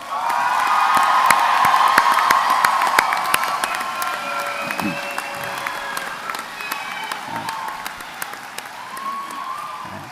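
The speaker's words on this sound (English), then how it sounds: "One more big round of applause for all of them." Crowd at a community college commencement applauding the graduating class, loud sustained clapping mixed with scattered cheers and whoops that gradually tapers off.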